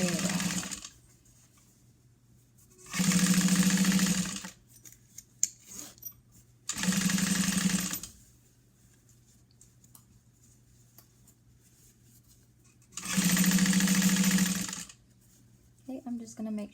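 A sewing machine top stitches around a zipper bag in three loud steady bursts of whirring stitching, each a second or two long, with quiet pauses between them.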